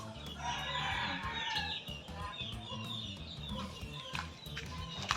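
Gilmore gamefowl rooster clucking repeatedly amid other chickens in a yard, a busy chorus of clucks and a distant crow at moderate volume, with no one speaking.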